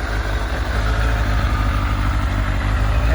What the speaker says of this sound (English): Engine's really nice and quiet.